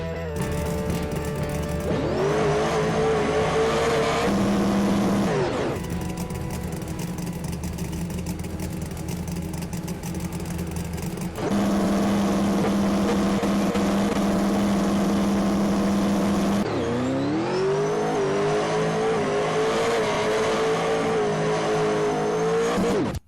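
Twin-turbo Pro Modified drag car in a video game making a quarter-mile pass: a loud, sustained engine roar that climbs in pitch through each gear, with sharp drops at the shifts, heard alone without voices.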